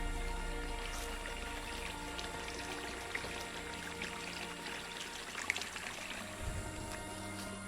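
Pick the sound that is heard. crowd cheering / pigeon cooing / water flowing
water flowing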